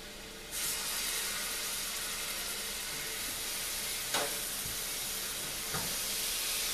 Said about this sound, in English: We're gonna fry these on all sides till you get it a good golden brown